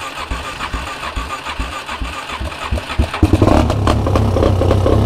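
A Suzuki ATV engine cranks with an uneven churning starter, then catches at about three seconds and settles into a loud, steady idle close by, with no talk.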